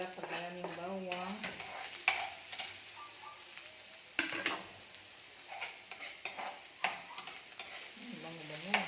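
Garlic sizzles in plenty of cooking oil while a utensil stirs and scrapes the pan, with steady frying hiss, clinks and scrapes throughout, and a voice murmuring briefly at the start and end.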